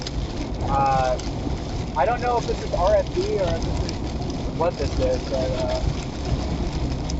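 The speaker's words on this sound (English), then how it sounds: "No, it's like crazy raining right now." Heavy, crazy downpour during a tornado chase, a dense steady hiss of rain running throughout, with excited voices talking loudly over it.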